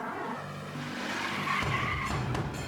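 Car tires skidding and squealing on a road, a loud screech that swells midway and holds to the end, with engine rumble underneath and no talking.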